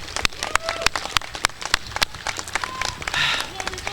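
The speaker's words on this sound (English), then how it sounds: "let's give her a strong round of applause that she richly deserves" Audience applause at a college commencement ceremony, a crisp patter of many clapping hands, moderately near and steady, lasting a few seconds.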